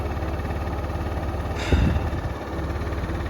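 A 2025 XPro Capri 150cc scooter engine idles steadily at around 2,000 rpm during a bad cold start, a low even drone with one brief louder rev-like bump midway.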